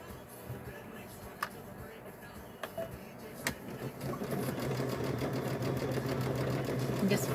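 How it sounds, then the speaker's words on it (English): A sewing machine stitches around the edge of a fabric bowl cover, starting with a few clicks and short bursts before settling into a steady, fast mechanical whir close by. "We're going to sew all the way around with this one."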